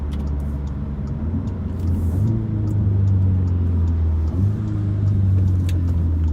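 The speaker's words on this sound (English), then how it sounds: "it nicely downshifted from 4th to 3rd to 2nd in fairly rapid succession and very smoothly" A 2017 Audi S3 with an automatic gearbox downshifts from fourth through third to second in quick succession, heard as a steady close engine drone from inside the car that rises in pitch twice with smooth, even shifts.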